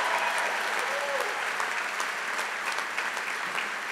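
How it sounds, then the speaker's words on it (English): Graduates at a community college commencement ceremony applaud, a broad, steady roar of many hands that sounds somewhat distant in a large hall, with occasional cheers and voices threaded through. "Give yourselves a round of applause"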